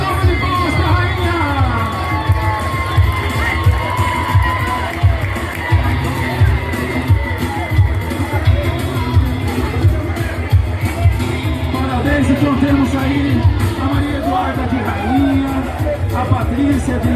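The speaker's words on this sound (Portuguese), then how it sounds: "Uma salva de palmas da rainha." Crowd at a São Jorge horsemen's festival cheering and clapping for the elected romaria queen, continuous loud cheers and shouts from many people, children among them, with voices mixed in.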